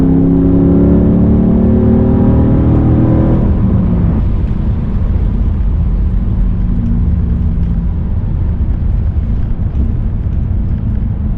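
A Lexus engine with an Apexi Neo AFC being street tuned pulls steadily uphill, loud and close. A rising whine in the first few seconds gives way to a continuous heavy drone with no talk.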